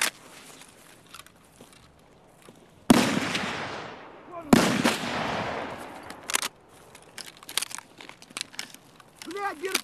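Escape from Tarkov gameplay: a grenade blast hits close and loud, followed by a second heavy explosion about a second and a half later, then scattered gunfire cracks and game noise.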